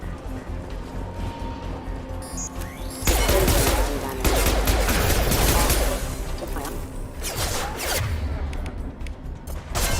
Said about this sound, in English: This is probably a good use of the grenade launcher